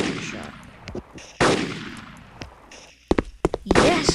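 Rapid gunfire in a video game, with dense bursts of shots and sharp cracks over a busy background of game noise, loud and continuous throughout.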